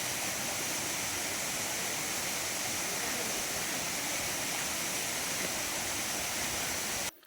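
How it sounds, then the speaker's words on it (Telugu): Ranajilleda waterfall in Araku Valley roars continuously, a dense steady rush of water filling the whole scene. "ఇది న్యాచురల్ వాటర్ ఫాల్స్."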